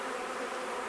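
Honey bees from a rescued colony in a barrel give off a dense, steady buzz that fills the short moment, loud and close with no talking.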